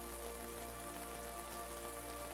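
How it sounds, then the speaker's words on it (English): Gentle rain falls in a soft, steady wash, an even continuous patter at low level with no distinct drops standing out and no voices. "The gentle rhythm of the rain continues guiding you deeper into rest"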